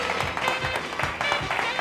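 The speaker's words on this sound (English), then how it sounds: "how about a nice round of applause, ladies" Studio audience applauding for a contestant on a local Baton Rouge game show, dense steady clapping from a modest crowd heard fairly close, with faint voices mixed in.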